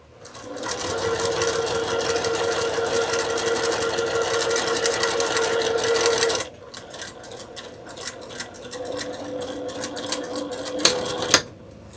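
A sewing machine stitching a long seam on a Halloween table runner, a fast steady mechanical whirr running for several seconds, then a short pause and a slower burst of stitching that ends with a few clicks.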